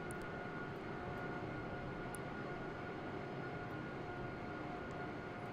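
Airliner engines of an E-Jet in the X-Plane 12 flight simulator drone steadily throughout, a dense broadband rumble with a faint tonal whine, loud and continuous without talk.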